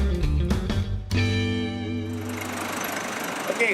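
Steady low van engine rumble with a rhythmic knocking idle, close by, running continuously after a few clunks at the start.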